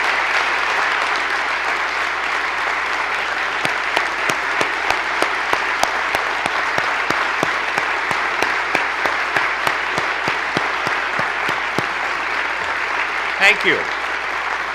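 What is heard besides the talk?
audience applause for military members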